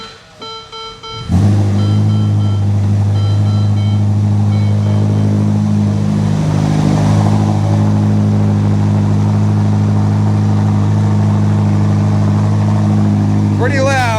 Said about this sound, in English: All right, first start up and drive away.